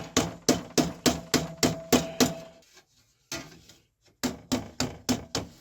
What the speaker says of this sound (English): There is the rubber mallet.